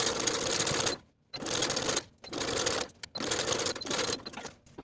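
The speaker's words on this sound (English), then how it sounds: "And then sew with a 3/8 inch seam allowance." Sewing machine stitching a bodice seam with a 3/8 inch seam allowance, running in four steady bursts of fast, even stitching separated by brief pauses, close and loud with no talk.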